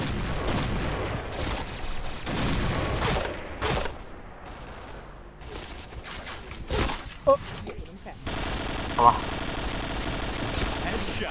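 An AUG A3 Samurai paintball gun fires in rapid bursts and scattered single shots outdoors during a game, the popping volleys loud and close while people talk and shout throughout.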